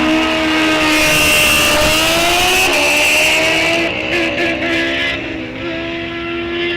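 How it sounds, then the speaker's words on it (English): Drag racing motorcycle at Rock Falls Raceway, NHRA Wisconsin State Championships, roaring loud and steady with engine pitch rising, dipping and stepping between gears as the rider struggles to shift, then fading slightly toward the end. "Sounds like Clampett having trouble shifting the motorcycle, and he is in trouble."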